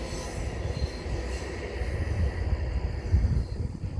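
A VIA Rail passenger train passes on a detour over the CN Halton Subdivision, its wheels squealing steadily over a low rolling rumble of cars, loud and close throughout.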